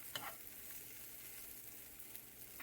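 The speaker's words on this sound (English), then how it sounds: "I'm putting the plant-based meat in a pan and stir frying that up." Plant-based meat sizzles and fries in a pan while being stir-fried, a quiet, steady hiss with a couple of brief louder crackles.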